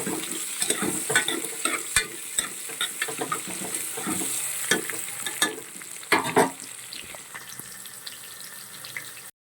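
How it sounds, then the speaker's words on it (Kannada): Sliced onions fry in a pan for a vegetable rice bath: a continuous sizzle under frequent utensil scrapes and knocks, with a louder cluster of clatter near the end before the sound cuts off abruptly. "ಸೊ ಈರುಳ್ಳಿ ಸ್ವಲ್ಪ ಗೋಲ್ಡನ್ ಕಲರ್ ಬರೋ ತನಕ ಚೆನ್ನಾಗಿ ಇದನ್ನು ಫ್ರೈ ಮಾಡ್ಕೋಬೇಕು"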